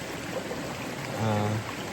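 Water from a forest waterfall rushes in a steady, dense wash along a hiking trail, with a brief low hum rising over it for a moment.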